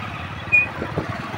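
Motorbikes cutting through road traffic, heard as a steady engine rumble with a brief louder swell as one passes close by.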